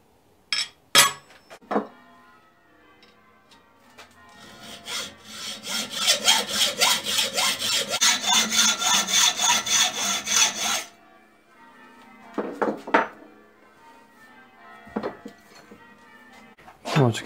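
Bright mild steel bar is cut to length with a hand saw in rapid back-and-forth rasping strokes for several seconds, between scattered clinks and handling knocks of metal stock nearby.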